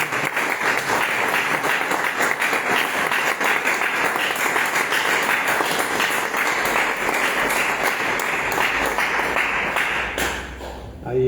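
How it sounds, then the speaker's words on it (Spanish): Sustained, dense applause from an audience at a Hare Krishna gathering in Montevideo, loud and even for about ten seconds before trailing off at the end. "un aplauso para la visita de Krishna Swami por la casa"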